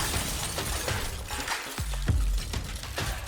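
Thick plate glass window smashed as two heavy filing cabinets are hurled through it one after the other, a loud crashing burst with clattering debris and mechanical rattling over steady background noise.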